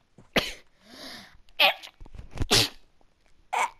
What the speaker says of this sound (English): Sorry for sneezing there